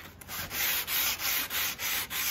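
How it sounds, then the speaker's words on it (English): Close hand sanding of a windsurf board repair with 240 grit sandpaper: steady rhythmic back-and-forth scratchy strokes, about six passes, loud and alone. "we will get to work with the basic sanding first"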